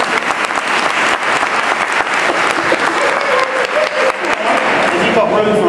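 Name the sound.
audience round of applause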